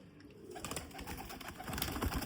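Low, throaty cooing comes from a golden breed pigeon held close, a short run of soft calls that grows slightly louder toward the end.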